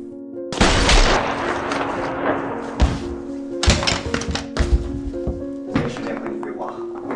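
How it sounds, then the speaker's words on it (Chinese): Gunfire in a crime action film, several sharp loud shots in separate bursts with short gaps between, cracking over a steady low background hum. "悦耳的枪声啊！"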